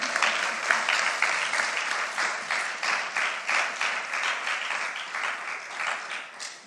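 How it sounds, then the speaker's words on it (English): An audience at an official exam results release applauds steadily, rhythmic clapping at moderate distance throughout, with little talk over it. "I think you need to clap"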